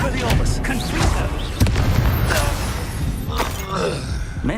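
A Confringo blast spell goes off in the Hogwarts video game, a booming explosion with crackling, shattering debris amid game noise and voice-like sounds, loud and close.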